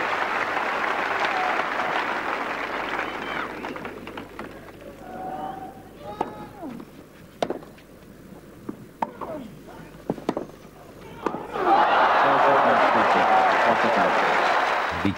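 Tennis crowd at Roland Garros, 1992 French Open, applauding and cheering as a player leaves the court: a loud sustained ovation at the start, dying into scattered claps, then surging back loud and dense near the end.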